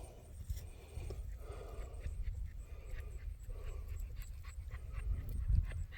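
A dog pants steadily up close, quick breaths running through the whole stretch with a few soft shuffling and clopping sounds mixed in, outdoors in a quiet rural spot in New England.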